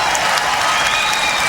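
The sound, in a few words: applause sound effect played on a radio show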